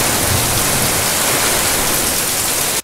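Heavy rain pours outside as a loud, steady, dense hiss that fills the whole moment without a break.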